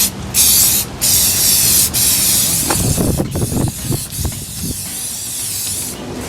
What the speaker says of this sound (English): When you do spray painting or clear coating, you should always get yourself a spare can.